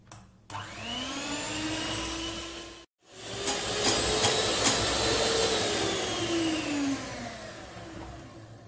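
An electric whisk beats eggs and sugar for a cherry clafoutis batter, a loud, steady motor whine that runs for a few seconds, cuts off briefly, then starts again and keeps going, heard close with no talking.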